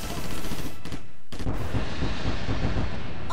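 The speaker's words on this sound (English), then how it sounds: "Firing high caliber rounds." High-caliber gunfire in the space combat game Sunrider, loud and dense, with rapid bursts that break briefly and then resume as a sustained, booming barrage.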